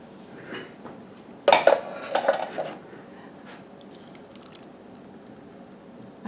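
A can of cream style corn and a can of undrained whole kernel corn dumped into a dish, a short burst of clattering, sloshing plops followed by quiet.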